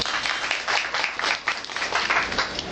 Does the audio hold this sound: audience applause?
yes